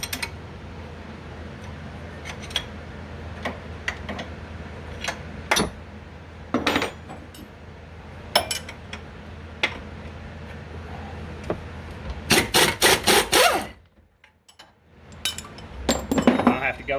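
Metal clinks and ratchet-like ticks from an 18mm socket wrench loosening a front trailing arm suspension nut on a 5.7 Hemi Charger, with a sharp burst of rapid clicks near the end over steady garage background.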